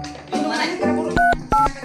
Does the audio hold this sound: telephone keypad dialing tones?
yes